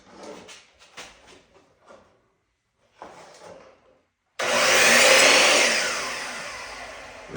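A power tool shaves wood off baseboard trim around a toilet base, starting abruptly after several soft handling knocks and running loud and steady for about three seconds before fading slightly.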